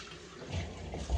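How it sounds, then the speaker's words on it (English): Glass jars are washed by hand in hot soapy water, with soft running and sloshing water and a few louder splashes and clinks near the end. "I'm going to wash our jars in hot soapy water"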